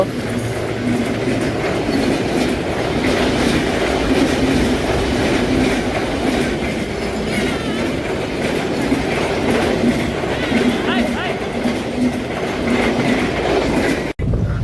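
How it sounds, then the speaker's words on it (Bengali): A small train rumbles past close by, with steady rhythmic clattering of wheels on rails and a continuous loud mechanical roar lasting the whole stretch. "যদি আপনারা খেয়াল করেন এখন এই ট্রেন যাবে"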